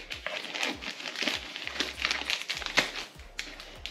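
Scissors cutting open a cardboard subscription box, with close crinkling, tapping and snipping of cardboard and packing material in irregular bursts, no one talking.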